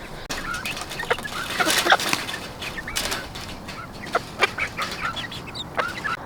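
Hens and roosters cluck and squawk inside a homestead chicken coop, with several sharp calls and some wing flapping close by, scattered irregularly and with no talking.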